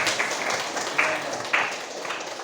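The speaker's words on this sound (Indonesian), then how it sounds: "Itu tepuk tangan dong." Students in a junior high school classroom clap together in a short, moderately loud burst of scattered claps that rises and fades over a couple of seconds.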